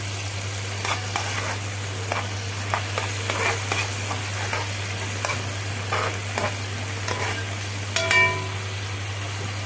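Chopped vegetables for an omelette sizzle steadily in a hot pan while a utensil scrapes and stirs in soft intermittent strokes, close up, with a low constant hum underneath and no talking.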